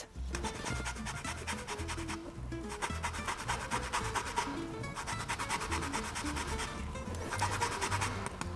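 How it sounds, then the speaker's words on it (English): Half a lemon is zested for ricotta French toast batter, producing continuous close rasping and scraping strokes against the grater in a fast, even rhythm, with no speech. "And we're going to use a half a lemon zest."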